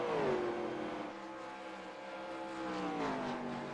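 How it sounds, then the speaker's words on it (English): A race car engine drones steadily on a straightaway as the driver feathers the throttle, its pitch dipping and then climbing again with a slight waver, heard from some distance without anyone talking. "You hear him feathering the throttle down the back straightaway."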